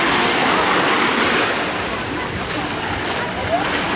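Sea waves wash onto a beach in Alanya, Turkey, a loud continuous surf roar with wind buffeting close to the shore.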